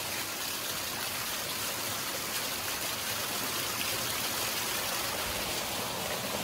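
Steady rushing water of a stream pouring down a waterfall, a continuous broadband roar with no voices.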